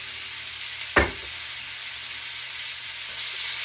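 Pork tenderloin sears in hot oil in a pan, giving a steady, bright sizzle throughout with one brief louder spit or clatter near the start.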